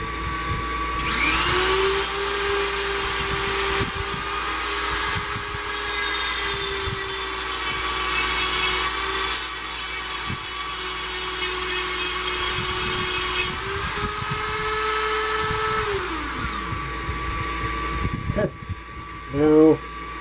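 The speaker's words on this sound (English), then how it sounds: "I'm pretty much done with the die grinding." Die grinder grinding a steel knife blade, a loud, close, continuous high-pitched whine that holds steady for about fifteen seconds with slight pitch dips, then winds down into handling clatter.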